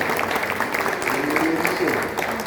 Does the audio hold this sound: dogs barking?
no